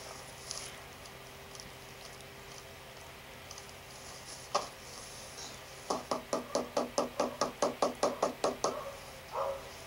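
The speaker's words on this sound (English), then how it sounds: "I'm gonna knock the front." Someone knocks on a front door: a single rap, then a quick run of about a dozen sharp, evenly spaced knocks, fairly close, with a quiet pause before them.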